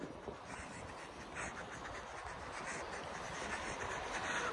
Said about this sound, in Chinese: 也是一个很大的火车站